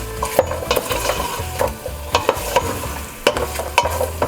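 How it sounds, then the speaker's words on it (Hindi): Beef fries and is stirred in a pot for yakhni pulao, with a rhythmic series of sharp utensil scrapes and knocks over a continuous close sizzle. "और गोश्त को भूनने के बाद जब यहाँ पर 2-3 मिनट हो जाए इसको भूनते हुए"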